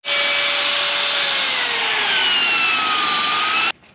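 A high whining drill spinning a small abrasive bit runs steadily for a few seconds, pitch slowly sliding downward as it grinds, then cuts off abruptly.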